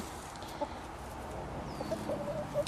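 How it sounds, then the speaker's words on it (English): Chickens clucking softly at a distance on a goat farm, a few short clucks scattered over a steady outdoor background hum. "we do have a couple escapee chickens that do like to get out"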